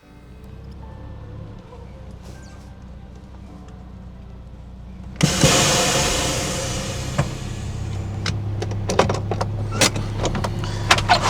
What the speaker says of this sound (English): I've got the tire pump connected to my air tank